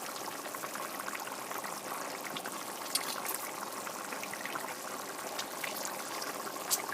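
Steady running water splashing over canned tuna being rinsed, a continuous hissing gush with small irregular spatters, heard alone at moderate level.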